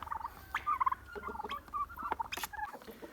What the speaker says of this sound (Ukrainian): Бронзові індички.